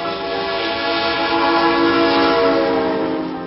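A train passing close to a one-story converted office park that houses a church auditorium, its horn sounding a loud, steady multi-tone blare for the whole stretch over the rumble of the rail cars.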